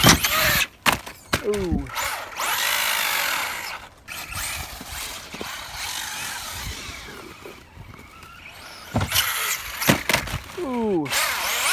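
A two-wheel-drive Traxxas Slash RC car on Badlands tires whines close by, with motor revs rising and falling, quick tire scrabbling and sharp bursts as it launches and lands jumps. A brief voice reacts partway through.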